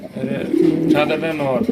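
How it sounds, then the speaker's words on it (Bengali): A King pigeon cock and a Roman Girl hen coo close by in a brief, fairly loud burst of throaty, rolling calls. "দুইটা দুই কোয়ালিটির কবুতর দেখতেই পাচ্ছেন একটা হচ্ছে কিং কবুতর আর একটা হচ্ছে গিয়ে আপনার রোমান গার্ল কবুতর"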